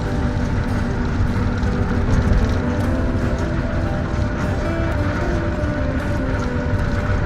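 An ANS intercity bus speeding along a Sumatran highway at around 120 km/h, heard from inside as a steady loud engine and road roar with rattling cabin hum throughout.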